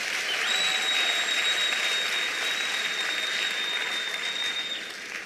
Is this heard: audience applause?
yes